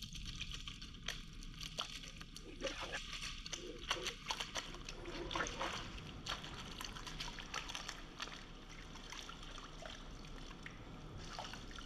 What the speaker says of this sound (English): I just put it in a pan.